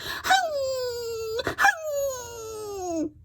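A dog whimpers in two long, high, wavering whines that slide downward in pitch, close and fairly soft, with a short break between them.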